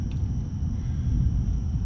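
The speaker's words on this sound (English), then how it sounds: "some more thunder" Thunder rolls as a low, continuous rumble that holds steady throughout, fairly distant and without any sharp crack.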